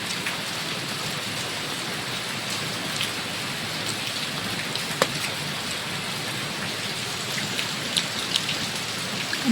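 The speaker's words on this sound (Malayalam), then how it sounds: "എന്തൊരു നിർത്താണ്ട് പെയ്യുന്ന മഴയാണ്" Heavy, non-stop monsoon rain falls steadily throughout, a dense even hiss of drops striking surfaces with a few sharper nearby splats, no talking.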